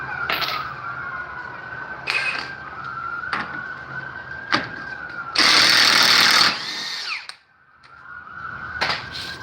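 An impact wrench works the rear CV axle nut on an Infiniti QX56, giving several short, sharp bursts over a steady background hum, then one longer, louder burst of hammering before the sound briefly dies away.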